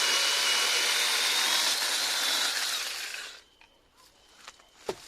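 A Metabo MS 18 LTX cordless battery chainsaw with an extension pole cuts in a loud, steady whine for about three seconds, then stops, leaving a few light clicks and knocks in near silence.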